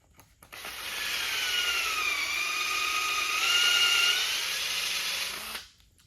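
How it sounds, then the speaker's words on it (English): A power drill whirs loudly for about five seconds as it bores a dowel hole, its pitch dipping slightly under load before spinning down. "You just basically drill the hole"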